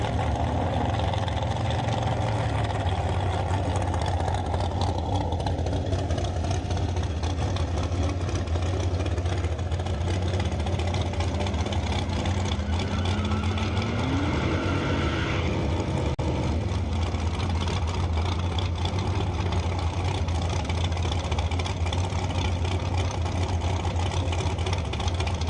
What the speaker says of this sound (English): Now, when Keith Reisner comes out here with his Mustang, of course, he's got a wheelie bar.